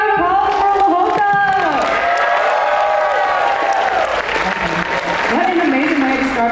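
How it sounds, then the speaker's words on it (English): A crowd at a university cultural night applauds and cheers for a performing group, with clapping and whoops under sustained music tones and a voice over the noise. "Let's give another round of applause for Lohota!"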